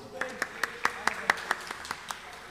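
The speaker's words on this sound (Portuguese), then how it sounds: "Eu peço também uma salva de palmas" Scattered, slow clapping from a small audience in a council chamber, about a dozen distinct claps in a steady rhythm for the guardianship councillors, close and clear.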